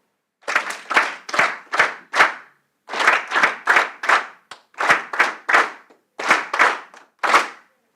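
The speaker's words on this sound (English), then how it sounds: "We have now mastered the act of the factorial clap." A seated forum audience claps in unison, a rhythmic factorial clap built from bursts of five, four and three sharp claps with brief pauses between the groups, loud and close, with no voices.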